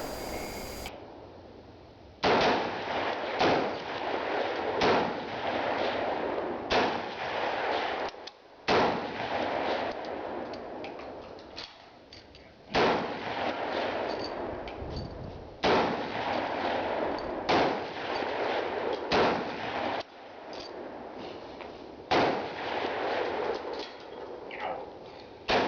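M1 Garand and Springfield rifles at an outdoor CMP Garand match fire repeated loud cracks. The shots come in irregular bursts with brief pauses between strings, strong and close, with no talking.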